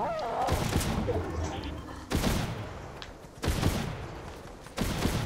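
Loud shotgun blasts from a Fortnite Zero Build squads match, three to four heavy booming shots spaced about a second and a half apart, each with a sharp onset and a rumbling tail over busy game noise.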